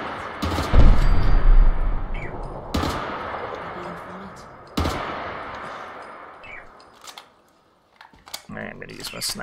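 Fallout 4 7.62 rifle fired at a turret, three sharp spaced shots each with a decaying echo tail, followed by quieter clicks and handling noises at the end.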